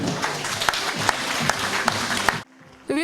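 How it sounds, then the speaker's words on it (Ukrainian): Applause at a tripartite memorandum signing between farmers, scientists of a feed institute and the Vinnytsia city council, a dense, steady clapping for about two seconds that stops abruptly, followed by near silence and a brief voice at the end. "Меморандум підписано оплески."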